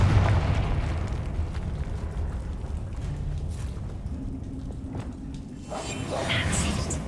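A Confringo fire spell bursts in Hogwarts Legacy: a loud, sustained explosive roar with crackling and whooshing, fading slightly over several seconds before swelling again, with a faint voice.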